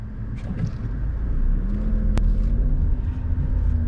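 A 2021 Tata Nexon turbo petrol three-cylinder car drives in automatic mode, its engine giving a steady low hum and rumble heard from inside the cabin, with no talk.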